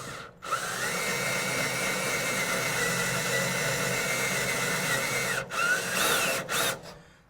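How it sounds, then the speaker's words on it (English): A power drill whines steadily for several seconds drilling through the sheet-metal rear cab floorboard of a 1967 Kaiser Jeep M715, briefly stops, then gives a few short bursts at the end; no talking. "I felt a little give like when you're drilling through sheet metal"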